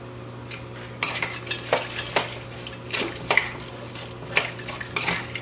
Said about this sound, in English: And then we'll just whisk it.